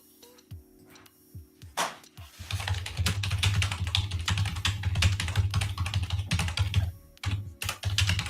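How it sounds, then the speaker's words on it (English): A mechanical keyboard with red switches typed on rapidly and steadily nearby, producing dense continuous clacking after a few scattered opening keystrokes, with brief pauses near the end. "Wow, sounds like the red keys, isn't it?"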